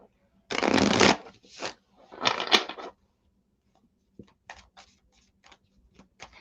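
Tarot cards are shuffled close by in two quick riffling bursts, then lighter scattered card snaps and taps.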